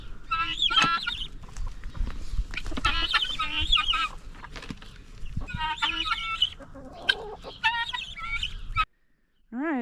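Chickens and guinea fowl cluck and squawk in a barn after being scattered scratch grain on a farm, with repeated near, busy bursts of calls over rustling and shuffling before the sound cuts out near the end.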